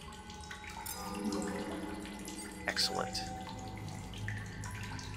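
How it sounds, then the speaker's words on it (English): A fresh-water fountain in The Solus Project runs with a steady, soft trickle and splash, quiet and continuous beneath a brief spoken word and faint ambient game tones. "Drink from the fresh water fountain."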